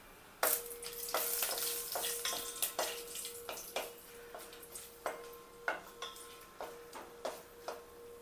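Masala fries in about two spoons of ghee in a large heated pan, a soft sizzle punctuated by a regular series of quiet stirring clinks and scrapes, close and fairly faint.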